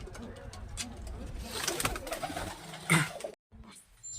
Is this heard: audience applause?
no